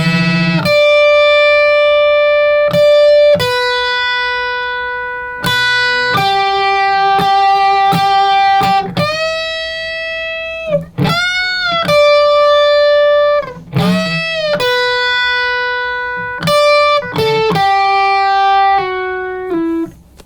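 A fuzz-distorted electric guitar plays a guitar solo, sustained singing held notes and bends, loud and up close, with no talking.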